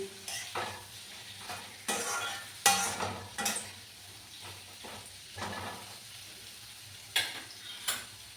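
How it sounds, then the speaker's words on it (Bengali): A spoon stirs pumpkin curry in a pan, giving repeated scraping and clacking strokes at an uneven rhythm over a low, steady sizzle. The sounds are close and no voices are heard. "তারপরে আমি একটা মিক্স করে নিচ্ছি"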